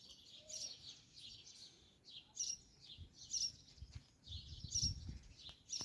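Birds chirp and call repeatedly around a hilltop pigeon feeding spot where a couple of pigeons wander. Short, faint calls come and go over a soft outdoor background, with no talking.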